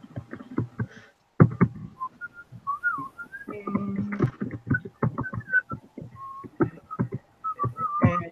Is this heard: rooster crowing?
no